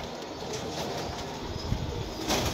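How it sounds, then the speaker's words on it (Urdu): Pigeons coo softly amid a dense, noisy background of rumbling and hiss, the low calls faint and partly buried, with no voices over them. "کبوتر دیکھتے جاؤ ماشاءاللہ"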